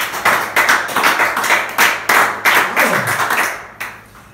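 Church congregation clapping in unison, close and loud, a steady beat of sharp group claps at roughly two per second that fades near the end.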